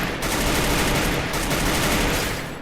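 Rapid gunfire bursts from the mobile battle game Free Fire, a dense, continuous volley of shots that stays loud for nearly the whole stretch with no talking.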